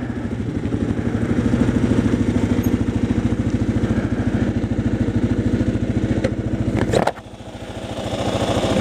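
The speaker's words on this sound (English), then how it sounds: "But the bike powers through them." A motorcycle engine chugs steadily and loudly up close while the bike pushes through rutted ground, its throb briefly dropping out near the end before it revs back up, with no talking.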